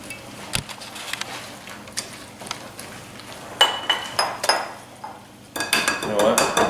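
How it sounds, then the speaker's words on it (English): A whisk clinks and taps against a bowl while corn and cheese fritter batter for jalapeno corn fritters is mixed, with irregular scattered strokes that grow busier and louder near the end. "I'm going to add the cheese. And just kind of whisk that together."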